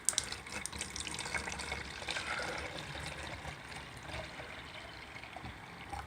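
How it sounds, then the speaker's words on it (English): Water is poured sloppily into a container for a PVC trommel recirculation siphon tube, a close, continuous splashing and trickling pour lasting several seconds with no voices. "Now I'm going to pour some water in there"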